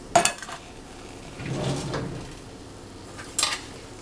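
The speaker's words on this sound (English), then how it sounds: "I kind of like to get rough with the strawberries and kind of just poke at them and mix" A utensil pokes and stirs strawberries cooking with sugar in a pot. There are a sharp clink at the start, a soft scraping swirl in the middle and another brief clatter near the end, all fairly quiet with no talk.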